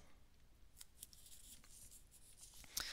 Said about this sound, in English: I forgot to cut the circle out here